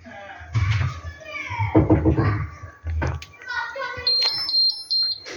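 A Beko TKM 8961 S Turkish coffee machine sounds a run of short, high warning beeps near the end, after people talk and cups clatter in the room.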